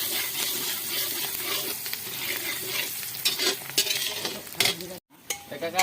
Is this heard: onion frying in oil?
yes